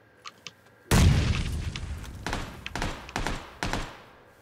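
A grenade detonates in PUBG with a sudden loud boom, followed by a scatter of sharp thumps and cracks that echo and fade over several seconds, after faint taps beforehand.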